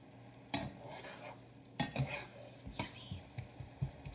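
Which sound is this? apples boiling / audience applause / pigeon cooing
apples boiling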